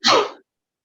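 A single quick sneeze, close and fairly loud, a sharp burst that fades within half a second, followed by silence.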